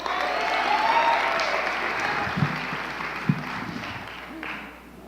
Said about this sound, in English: Can we give Carolina another round of applause?